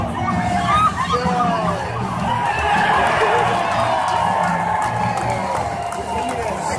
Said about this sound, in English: the cheers we hear when he's tackled let us know the crowd was never on his side